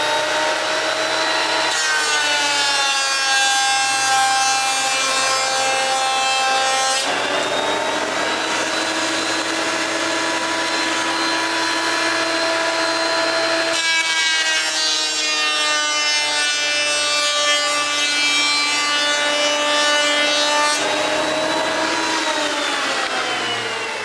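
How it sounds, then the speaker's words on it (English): A surface planer drives through a piece of wood with a loud, sustained whining roar, close by, in two long passes with brief pauses where the pitch of the motor shifts. "Those surface planers are nice."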